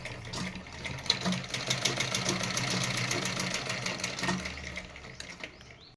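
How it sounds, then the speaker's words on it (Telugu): A sewing machine stitches cloth, running at a steady, fast, whirring rhythm for several seconds, with a few brief pauses and speed changes. The sound is close and moderately loud, with no voices. "ఇలా మిషన్ పైన కుట్టుకున్నా నేను వీటిని."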